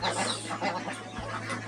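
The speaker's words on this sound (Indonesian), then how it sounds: "Lihat itu, ini anakan bebek." A crowd of roughly 400 ducklings on a home duck farm, chattering and quacking continuously at middling volume over a steady electrical hum, with no one talking.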